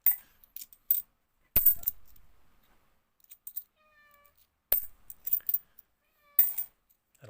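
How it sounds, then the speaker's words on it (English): A pet cat gives a single faint, brief meow in the background while coins clink and drop sharply in several close, bright metallic bursts separated by silence during coin sorting. "That'll be my cat there, adding the soundtrack to the video."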